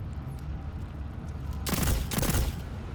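Automatic rifle fire in the video game Destiny 2: a dense, loud volley of rapid shots, split into two short bursts with a brief gap between them, over low game ambience.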